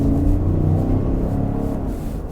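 A 2022 Cadillac Escalade's 6.2-liter V8 rumbles steadily at idle, a deep, continuous low drone heard fairly close with no talk over it.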